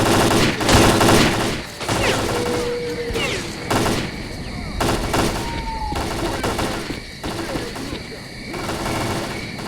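Rapid bursts of automatic gunfire aimed at a sniper in a tower during a firefight in S.T.A.L.K.E.R.: Clear Sky, loud and sustained through the whole stretch with dense overlapping shots and a few brief whistling tones.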